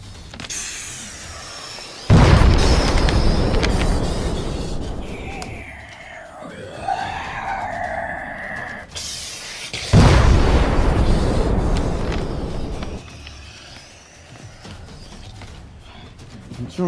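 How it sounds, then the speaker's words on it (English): Cartoon grenade explosions burst in two heavy booming blasts with rumbling decay, separated by a stretch of whistling, whooshing effects. "Throwing grenades."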